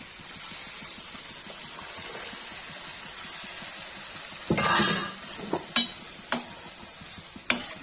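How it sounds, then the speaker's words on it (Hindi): Cooked arhar dal is poured into a hot, sizzling tadka with a steady frying hiss. A louder splash and surge follow, then the spoon clinks a few times against the pan while stirring. "इसमें दाल डाल देंगे।"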